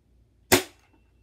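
A single sharp BB gun shot at a shoe box, one loud, close crack with a fast decay and near silence before and after.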